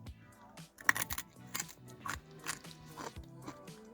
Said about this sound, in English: I'm going to let you hear the crunch